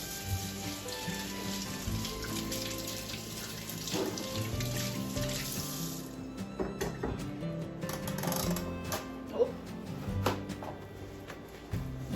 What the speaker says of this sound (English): So Miss Katie is going to turn on the tap here now and wash her hands.